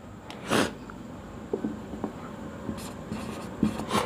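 Chalk or a marker scrapes across a board while physics units are written out during a lesson, giving short, close scratchy strokes and taps at irregular intervals over a quiet room hum.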